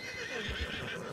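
A horse neighs and whinnies in a roleplay video game set in 1920, with faint hoof clip-clops, one short continuous burst close by.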